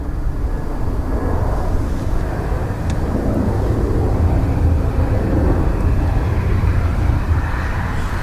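An Aer Lingus airliner, flight EI 403 from Rome, arriving at Dublin Airport, gives a steady low engine rumble and roar that holds fairly constant through the stretch, with no voices over it.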